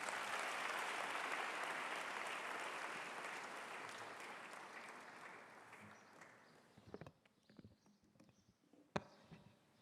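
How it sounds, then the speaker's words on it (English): A large audience gives a big round of applause for a speaker at a leadership conclave, a dense sustained clapping that fades gradually, leaving a few scattered claps and a shuffling noise near the end. "a big round of applause"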